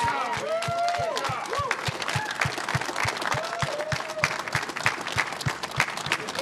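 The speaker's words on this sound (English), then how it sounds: "Round of applause for Anthony Robles." A crowd applauds after a record attempt at the most pull-ups in one minute wearing a 40-pound pack. Dense, loud clapping runs with an even pulse, mixed with cheering voices and talk.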